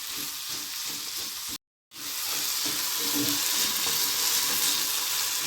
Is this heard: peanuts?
yes